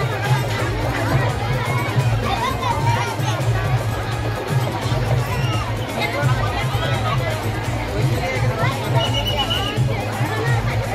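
A large crowd of devotees gathers at Deekshabhoomi in Nagpur, a dense babble of many voices with children calling out here and there, continuous and close on all sides.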